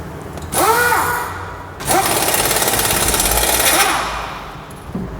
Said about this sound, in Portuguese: vamos dar uma partida e vamos pisar na embreagem para ver como ficou